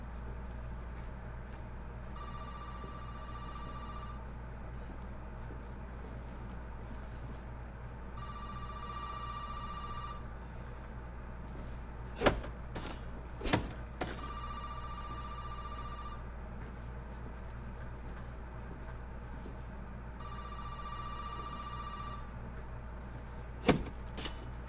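A telephone rings in Resident Evil 7, four long trilling bell rings spaced evenly apart over a low ambient hum, broken by a few sharp thumps in between.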